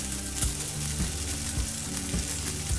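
Rice tossed into a hot pan for vegetable fried rice, a dense continuous sizzle with soft rhythmic stirring thuds, close and steady with no voices.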